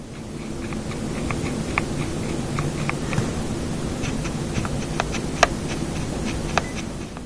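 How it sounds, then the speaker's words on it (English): Typing on a Keychron Lemokey P1 Pro keyboard with scratchy switches gives a steady stream of soft, close clicks and taps over a faint low hum, with no talking. "why are the switches of this keyboard this scratchy? If you listen closely, you can even pretty much hear the scratchiness."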